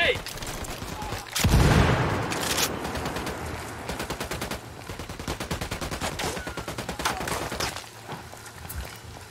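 Gunfire in the Ghost Recon Wildlands video game, with a dense burst of shots and a loud blast early on, then sustained rapid automatic fire continuing under the scene with voices mixed in.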